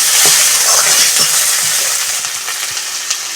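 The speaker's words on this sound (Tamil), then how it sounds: "ஜிஞ்சர் கார்லிக் பேஸ்ட் போடுறேன் போட்டு லைட்டாக அது கொஞ்சம் நல்லா ஃப்ளேவர் வர வரைக்கும் கொஞ்சம் வதக்கினாக்கா" Ginger garlic paste sautéing in a hot pan for a mutton meatball curry, a loud, close, continuous hiss of frying with faint scraping stirs, easing slightly toward the end.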